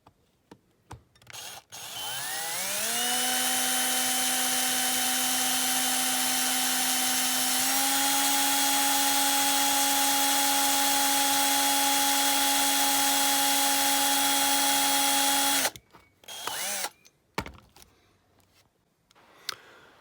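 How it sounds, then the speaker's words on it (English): A power drill whines steadily at high speed for about thirteen seconds, drilling out a rivet hole in a diecast toy car, pitch stepping up slightly midway, then stops, followed by a few clattering knocks. "I've just drilled out the rivet hole"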